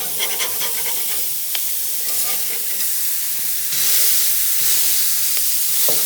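A burger patty and bacon sizzle together in a hot pan, a loud dense hiss of frying fat that swells slightly partway through, with occasional clicks of a utensil and no talking.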